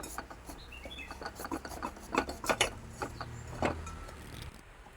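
A knife cuts through a ripe, mature pumpkin in a series of close, rough rasping and scraping strokes with irregular louder bursts, with no speech.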